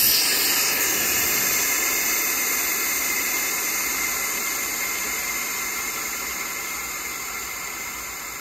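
Air hisses out of a Vevor 5-ton pneumatic jack in a loud, steady rush that slowly fades over several seconds, alone without talk.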